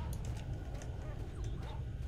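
Dogs in the video game Stalker bark and yip in scattered short calls, a few sharp barks over a low rumbling background, moderately close but not loud.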